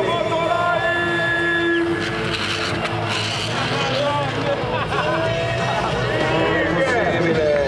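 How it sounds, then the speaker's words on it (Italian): Motorcycle burnout during Chris Pfeiffer's stunt show at EICMA 2012, an engine held at high revs with tyre screech and shifting pitch, loud and continuous under an Italian announcer and a crowd murmur. "Burnout in equilibrio."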